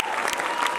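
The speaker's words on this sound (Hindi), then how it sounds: "भरपूर तालियां होनी चाहिए उस मंच के लिए।" An audience at an Urdu stage event claps to welcome Professor Masood Anwar, a retired technical college principal, onto the stage: a brief, dense burst of crowd applause at moderate distance under a faint steady tone.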